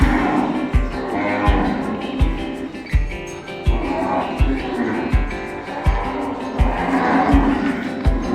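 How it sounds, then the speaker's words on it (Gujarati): Loose cattle moo repeatedly as they head into their pen at a farm near Satadhar, loud and close over regular low thumps and some background noise. "આપણી ગાયો અત્યારે બધી ખુલ્લી છે અને વાડામાં અત્યારે જઈ રહી છે"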